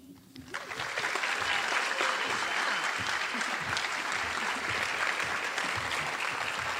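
Sustained applause from a graduation ceremony audience at Lorenzo Walker Technical College, a dense crowd of clapping that swells within the first second and holds steady and loud throughout.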